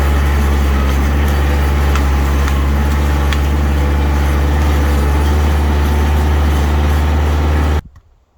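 A tractor-powered wood chipper runs steadily at an off-grid cabin, a loud, constant low engine drone with faint ticks of material passing through, cutting off abruptly near the end.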